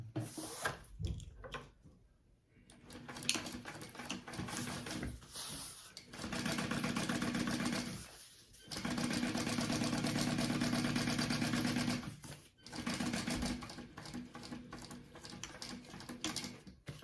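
A sewing machine top stitches a tote bag in several close runs of steady motor hum and rapid needle ticking, the longest in the middle, broken by pauses filled with quieter handling clicks and shuffling.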